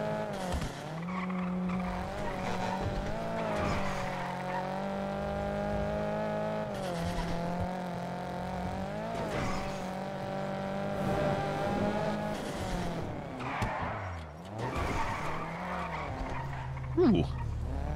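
Cars race in a video game with a sustained engine drone, repeated tire squeals and skids, and revs rising and falling throughout, close and continuous.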